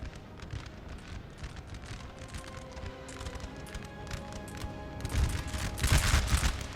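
Musket volleys and cannon fire from a Napoleonic battle in the strategy game Napoleon Total War, crackling distant gunfire building into heavier, louder booming bursts toward the end.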